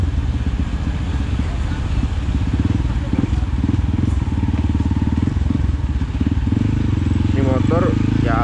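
Yamaha WR155R supermoto motorcycle, new blue-and-black model fitted with a BRT Juken 5 racing ECU, riding on a morning road; steady loud engine drone with wind rumble throughout, under continuous talking.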